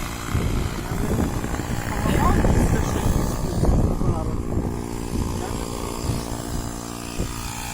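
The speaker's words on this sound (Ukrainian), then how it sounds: "підкачують шину" An air compressor hums steadily while inflating a deflated tire on a Zeekr X7 car at a filling station, its motor drone running under people talking nearby throughout.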